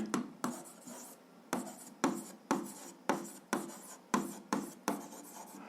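Pen writing notes on paper, close by and quiet, in a run of about ten quick scratchy strokes, each a short rub that fades before the next, with no talk over it.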